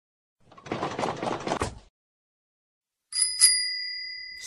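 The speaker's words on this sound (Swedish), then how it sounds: "Cykel." After a short burst of rustling noise and a pause, a bicycle bell rings twice in quick succession, bright and clear, its tone ringing on afterward.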